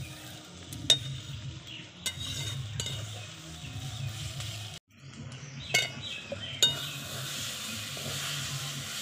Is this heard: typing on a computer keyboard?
no